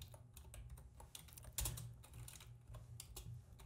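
Quiet, close typing on a computer keyboard while entering code, with a steady patter of individual key clicks and one heavier keystroke partway through.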